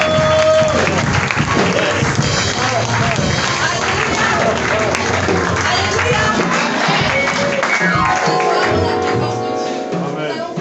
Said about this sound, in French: sous vos ovations, sous vos acclamations, nous allons inviter ici la présidente de la mini-conférence